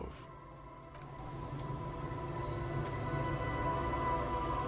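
Steady rainfall in the video game Disco Elysium, a soft continuous hiss with a gentle patter that stays even and fairly quiet throughout.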